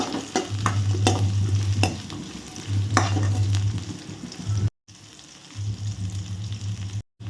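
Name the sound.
onions being stirred and sautéed in pan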